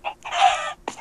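Chickens in Minecraft give a few quick clucks close by, a short squawk followed by a longer drawn-out cluck and one more chirp.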